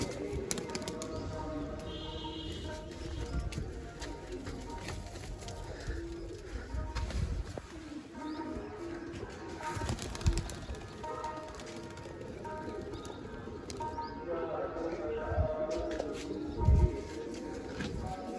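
Pigeons coo steadily at a loft, repeated low throaty calls over a longer stretch with occasional flutters and someone talking nearby.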